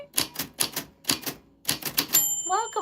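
Typewriter sound effect from a live stream's typewriter belt: rapid clusters of sharp mechanical key strikes with short pauses between bursts, ending in a bright bell-like chime and a sliding carriage-return sound.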